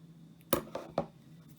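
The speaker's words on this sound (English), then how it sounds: "I would snip the extra off" Scissors snip extra thread off a button on a garment: three quiet, crisp clicks in quick succession against near silence.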